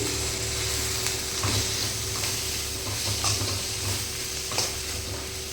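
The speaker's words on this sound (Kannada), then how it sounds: "ಕೊತ್ತಂಬರಿ ಆ್ಯಡ್ ಮಾಡ್ಕೊಳತ್ತೀನಿ, ಅದು ಹುರ್ಕೋತೀನಿ." Coriander and mint fry in hot oil for paneer masala, a steady loud sizzle with scraping stirring strokes throughout and no voices.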